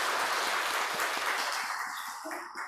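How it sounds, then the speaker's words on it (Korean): A church congregation applauds in welcome with a dense, even wash of many hands clapping, fairly loud and filling the room, easing off slightly toward the end. "여러분 큰 박수로 또 환영해 주시면 감사하겠습니다"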